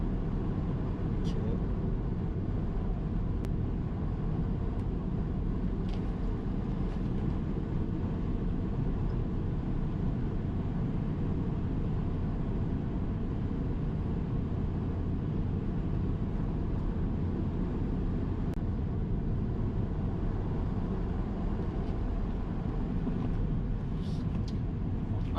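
Tesla Model 3 SR+ electric car lapping a race circuit, a steady broadband road and wind roar with low rumble holding constant throughout, no distinct events standing out.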